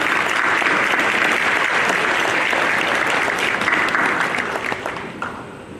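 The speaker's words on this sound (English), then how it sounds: "join me in a round of applause for all that they've done to get you to this point in your lives." A graduation ceremony crowd of friends and family applauds in steady, dense clapping that fills the space, continuing for several seconds before tapering off near the end.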